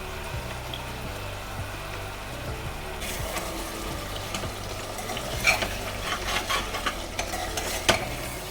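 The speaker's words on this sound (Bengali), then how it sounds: "আর এখন আমি টমেটোগুলো দিয়ে দেবো আর একদম নুনটা শাসন দিয়ে আমি কষিয়ে নেব" Tomatoes and salt sautéing in a pan, a soft steady sizzle with stirring scrapes and occasional clinks growing busier partway through.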